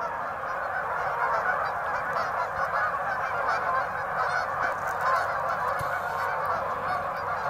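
A large flock of geese and other waterfowl on a pond honks continuously, a dense, loud chorus of overlapping calls with no pauses.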